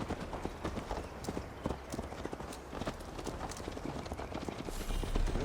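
Horse hooves clip-clopping at a steady riding pace in Assassin's Creed Valhalla, with a continuous rhythmic run of hoof strikes over a low ambient bed, quiet overall and swelling slightly near the end.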